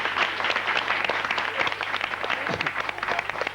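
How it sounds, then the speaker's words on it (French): Studio audience applause on a 1991 French game show, a lively dense clapping that continues steadily for several seconds at a fairly close distance. "je vous demande d'applaudir le poète qui a rédigé"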